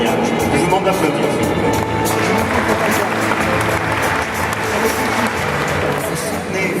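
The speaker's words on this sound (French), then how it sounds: "Je vous demande d'applaudir." Audience applause at a gastronomy gala evening, a dense, steady wash of clapping filling the room for several seconds with crowd murmur mixed in.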